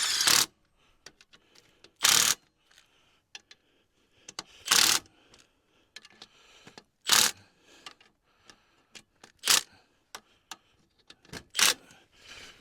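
Ratchet wrench runs down an alternator bolt on a 2001 Ford Super Duty with a 7.3 Powerstroke diesel, giving a series of sharp, close clicking bursts spaced a second or two apart, with faint ticks in between.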